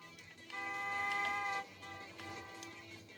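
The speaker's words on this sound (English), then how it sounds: "They're all just honking their horns" Truck horns blaring in the Cluster Truck video game, a sustained tonal honk that swells for about a second and then gives way to softer, overlapping toots amid game noise.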